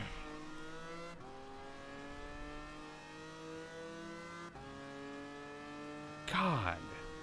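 Race car engine in Gran Turismo Sport on a real circuit: a steady droning whine with pitch steps as gears shift and a sharp squeal near the end, with a voice talking over it.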